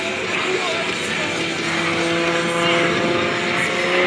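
A 355-horsepower aerobatic airplane engine roars steadily during an airshow hammerhead stall turn, a loud sustained drone with a faint pitch shift, heard under a commentator's voice.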